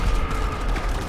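Rapid machine-gun fire in GTA V Online on PS4 during a first-person race and shootout, heard as a loud, dense, continuous roar of overlapping shots with no breaks.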